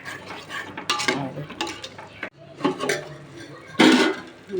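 Gongura leaves tossed into a pan of cooking prawns and stirred, with a spoon scraping and clinking against the metal pan in uneven strokes over a faint sizzle.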